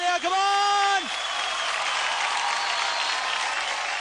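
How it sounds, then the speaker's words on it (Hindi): At a dance show grand finale, a voice calls out briefly at the start, then a crowd bursts into sustained applause that continues evenly at moderate loudness. "एक बार जोरदार तालियां"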